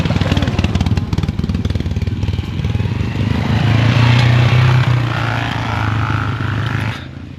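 Motorcycle engine running close by, a rapid pulsing putter that swells as it revs up and holds a steady drone before dropping off, with no talking.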